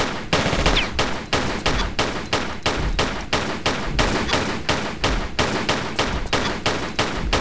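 Rapid automatic gunfire from the Tomb Raider 4: The Last Revelation video game, a steady rhythmic burst of loud, close shots repeating about three times a second for the whole stretch, with no talking.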